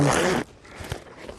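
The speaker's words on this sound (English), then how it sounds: "Zip it up." A zipper being pulled shut on a Karrimor SF Saber 45 backpack, one quick close rasp lasting under half a second, followed by faint handling noises.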